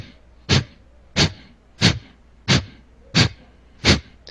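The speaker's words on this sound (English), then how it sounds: "So if you're making sharp exhalations, for example, breath of fire, which sounds like this." Six sharp, forceful nasal exhalations of yoga breath of fire, evenly spaced about two-thirds of a second apart, close and clear with quiet gaps between them.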